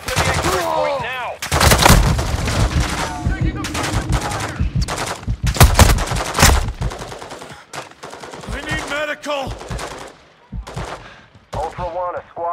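Gunfire in Call of Duty Warzone 2.0 comes in loud, close bursts of rapid automatic shots and single cracks, mixed with in-game radio voices and squad chatter.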